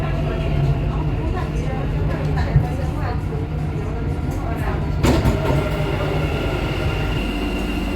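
A Dubai Metro train passes by on the elevated line, a steady rumbling roar with rail clatter and a brief squeal midway, heard from inside a moving carriage under faint voices.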